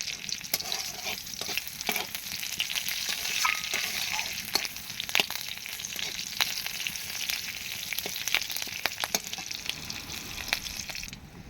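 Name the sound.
cumin seeds and green chilli tempering frying in oil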